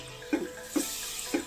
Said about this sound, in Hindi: थोड़ा सा पानी डाल देंगे और इसको